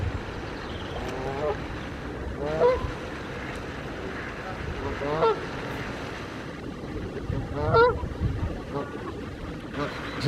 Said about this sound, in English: we've got Canada geese